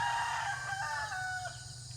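A rooster crows on a rural farm with a piggery, one long drawn-out call that wavers and fades, heard at a moderate distance over a steady low hum, with no one speaking.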